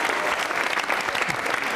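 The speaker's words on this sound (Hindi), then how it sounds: "तालियां जोरों से लगाइए" Loud, dense applause from an audience at a school quiz show, steady and sustained throughout with no pauses.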